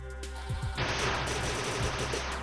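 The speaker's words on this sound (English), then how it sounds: "Let's actually charge up a shot here." A charged beam shot goes off in AM2R, played on hard mode: a steady electronic charging hum over background music, then a bright, noisy, sustained burst of fire lasting well over a second.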